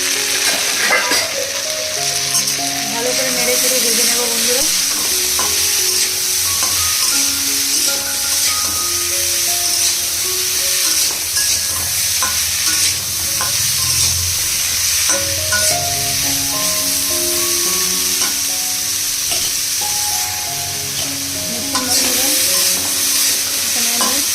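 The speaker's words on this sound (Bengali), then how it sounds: "হালকা পরিমাণ হলুদের গুঁড়ো দিলাম ভালো করে আমি নেড়ে চেড়ে ভেজে নেবো" Vegetables dusted with turmeric stir-fry for Bengali shukto, a steady loud sizzle of oil running throughout with repeated scraping and stirring sounds of a spatula against the pan, close by, no voices.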